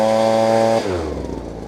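A Ryobi backpack blower engine screams at high speed with a loud, steady buzzing whine, then abruptly drops in pitch partway through and keeps droning lower, heard close and alone.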